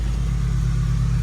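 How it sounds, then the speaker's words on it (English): A third-generation Cummins diesel pickup truck held at high idle, a loud, steady low rumble with a constant droning hum, close by and uninterrupted. "don't mind my 3rd gen, that thing is, it's in high idle, it's very loud"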